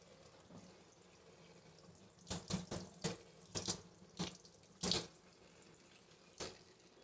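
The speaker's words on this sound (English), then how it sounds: "Dip it in some warm water." Warm water runs from a kitchen tap while a chocolate Easter egg mold is dipped, a series of sharp splashing bursts and gushes separated by short pauses over a quiet background.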